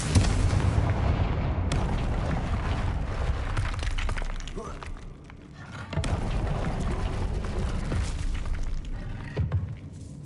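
Blasting-spell explosions in the video game Hogwarts Legacy, deep booming bursts with rumbling low end that recur, the second blast arriving midway, each fading into a dull roar.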